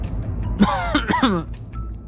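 A single short throat-clearing cough with a raspy, voiced edge, close and fairly loud, with a low hum underneath and no speech.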